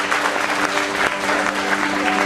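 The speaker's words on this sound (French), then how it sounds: "Allez, on peut les applaudir." An audience claps for performers after a short routine: a brief, thick wash of applause that stays even and full from start to finish, with a low steady tone running beneath.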